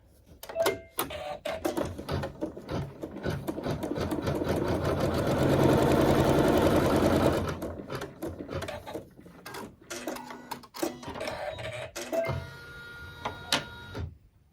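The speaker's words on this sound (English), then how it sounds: "with that neutral thread, we'll sew our seam" A sewing machine stitches a seam in fabric with neutral thread, starting with short clattering bursts, then running continuously for several seconds before stopping, followed by handling clicks and fabric shuffling.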